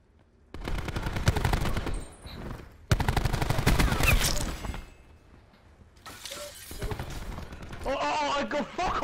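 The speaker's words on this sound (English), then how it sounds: "he shot me around the corner" Dense bursts of rapid video game gunfire sound loud and close in two long volleys, with a quieter stretch and scattered effects afterward.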